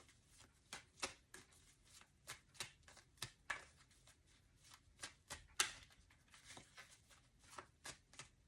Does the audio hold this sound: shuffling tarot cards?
yes